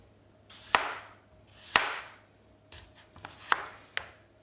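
A very sharp knife slicing through potatoes on a cutting board, four or five distinct crisp cuts each ending in a firm knock on the board, close and clear over a faint steady hum.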